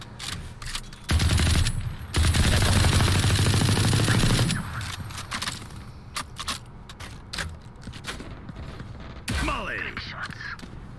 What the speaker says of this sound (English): Just shoot down this wall.